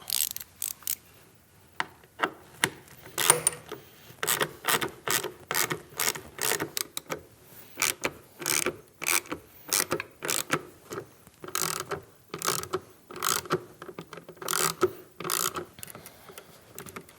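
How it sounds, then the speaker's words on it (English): Rapid ratcheting clicks from a tool turning out T20 Torx head screws on the front speaker of a Harley-Davidson Milwaukee 8 Road Glide, heard close up in irregular bursts of sharp ticks with brief pauses between strokes. "Take out the 4 Torx head screws and then unplug it."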